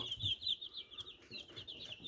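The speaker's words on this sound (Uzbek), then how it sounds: "Mana ko'pshiliklari Gollanka jo'jalari, yapon tovuq." Jersey Giant and Gollanka chicks, young black and Japanese-breed chicks up for sale, keep up a busy chorus of high, rapid peeping and cheeping, close by and fairly soft.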